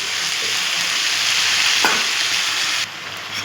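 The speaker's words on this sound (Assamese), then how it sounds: "বুট আৰু ঢেকীয়া শাক ভাজি" Chickpeas and fiddlehead fern greens frying in a hot wok, a steady loud sizzle with light stirring scrapes throughout, no talking.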